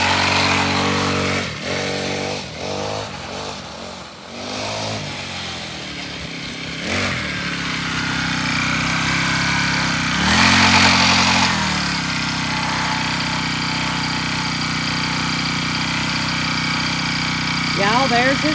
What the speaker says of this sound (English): Y'all, there's his motorcycle.